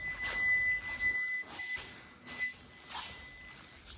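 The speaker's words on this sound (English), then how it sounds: "that's the sound because I've got the key in my hand" A steady thin electronic tone from a Kia Sportage key fob sounds close by, alongside soft shuffling and rustling.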